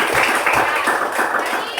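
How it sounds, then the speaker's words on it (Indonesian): Primary school class claps for a group of classmates, a short burst of quick, uneven hand claps close by, loud and bunched together over a couple of seconds. "tepuk tangan buat kelompok 3"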